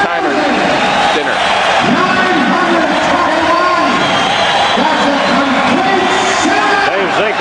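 A loud sellout crowd of 17,921 roars throughout at a 1984 76ers playoff game against the Nets, a dense, constant din of cheering and shouting. Arena music or a horn rises and falls beneath it.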